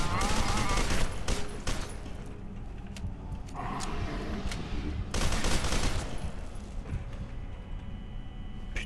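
Gunfire in the shooter F.E.A.R. 2 crackles in dense, irregular volleys of close shots with brief lulls between bursts, set against game ambience.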